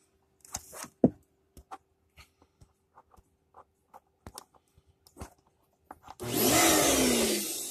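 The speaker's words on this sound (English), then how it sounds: "I'm gonna plug in the vacuum cleaner." A few scattered clicks and knocks, then a vacuum cleaner switches on and roars loudly and steadily to the end.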